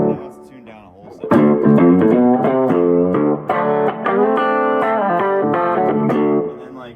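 An electric guitar in a country jam band rig, tuned down a whole step with a digital transpose effect, plays sustained chords and melodic notes loudly and close, without talk.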